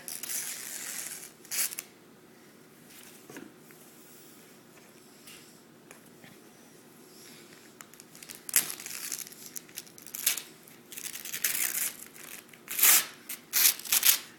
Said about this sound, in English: Just rip the paper off.